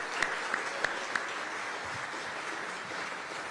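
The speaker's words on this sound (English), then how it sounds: "Let's give them a round of applause as they stand." An audience at a city event in Aurora applauds the economic development team as they stand, a soft, distant patter of clapping with a few sharper claps near the start.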